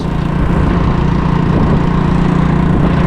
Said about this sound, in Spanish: Primera vez conduciendo una moto de marchas